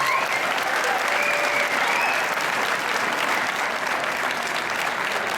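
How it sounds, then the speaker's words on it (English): Sustained applause from a large audience at an athletic hall of fame banquet, a steady dense clapping that fills the room without pause. "Let's hear it, fans, for your Hall of Honor member, Clegg."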